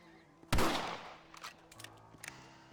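A rifle fired during target practice in Red Dead Redemption gives one sharp, loud crack that decays quickly, followed by a few faint clicks and small knocks in a quiet outdoor setting.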